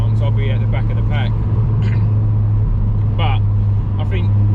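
A car on standard suspension drives along with a steady low engine drone from inside the cabin, while someone talks over it throughout.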